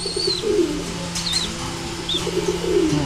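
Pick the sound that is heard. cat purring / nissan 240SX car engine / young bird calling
young bird calling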